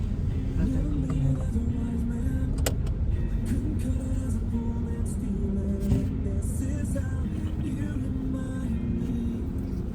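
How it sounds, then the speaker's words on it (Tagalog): Steady road traffic in Cabelandia on a Saturday, with cars rumbling and passing close by in a continuous, loud wash of engine and tire noise; a voice talks over it now and then. "Traffic dito sa Cabelandia."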